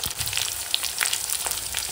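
Cauliflower sautés in hot oil with bay leaf and whole cumin, giving a steady, close crackling sizzle with small pops throughout.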